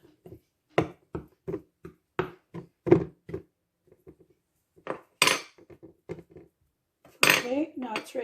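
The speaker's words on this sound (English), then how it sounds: "Then you have to prick the pie crust with a fork." Fork tines tapping and pricking a no-roll, oil-made pie crust in a pan, about a dozen short sharp clicks at a steady pace, then a pause and a few more scattered taps with a brief clatter near the end.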